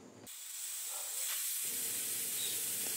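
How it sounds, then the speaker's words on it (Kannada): A steady, loud hiss of escaping steam runs almost the whole clip as a pressure cooker cooking vegetable pulao lets off its whistle on high flame, with no voices. "ಈಗ ಐ ಫ್ಲೇಮ್ನಲ್ಲಿ 1 ವಿಷಲ್ ಬರೋವರೆಗೂ ಬಿಡಬೇಕು."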